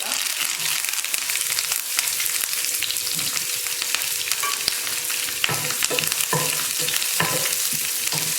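Curry leaves and onion frying in hot oil after mustard seeds and urad dal have popped, a steady close crackling sizzle with occasional stirring scrapes, no talking.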